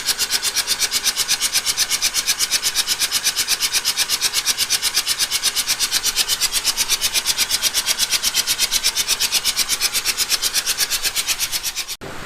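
2006 Mazda RX-8 rotary engine cranking over on the starter with spark plug wires out, a fast, even, rasping whir that runs steadily for about twelve seconds, then stops abruptly.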